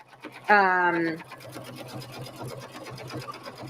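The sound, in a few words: embroidery machine stitching satin stitch on sweatshirt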